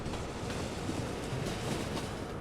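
A tram on a new line in the Cities in Motion 2 video game rolls past as a steady, dense rumbling wash of rail noise at moderate level, with no talk and no distinct events.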